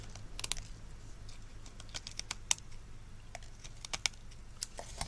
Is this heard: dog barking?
no